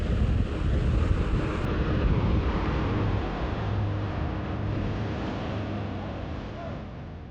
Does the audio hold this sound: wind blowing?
yes